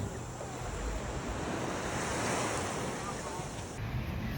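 Surf rolls onto a beach at Koh Samui in the Thai Gulf, a continuous broad wash of breaking waves with wind buffeting the microphone, no voices.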